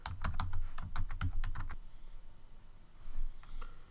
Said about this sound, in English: You can now log in with your username and password.